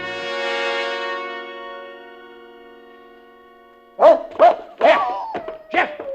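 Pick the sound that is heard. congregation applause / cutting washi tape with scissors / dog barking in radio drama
dog barking in radio drama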